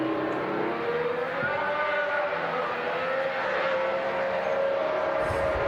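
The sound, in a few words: 2026 Formula 1 car on track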